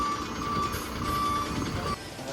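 A delivered truck beeps in a steady reversing pattern as it backs in through a gate after being washed, with the engine humming underneath throughout.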